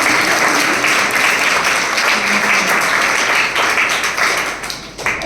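Church congregation clapping loudly together at a Resurrection Sunday service, a dense steady wash of applause holding strong throughout and easing slightly at the very end.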